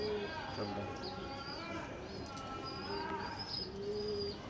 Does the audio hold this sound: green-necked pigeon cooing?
yes